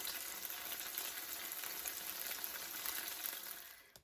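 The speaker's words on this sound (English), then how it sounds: "So I have added the tofu in with everything else, and I'm stirring it all up nicely." Tofu sizzles and fries in a pan with other ingredients while being stirred, a steady close crackling hiss that holds throughout and fades out at the very end.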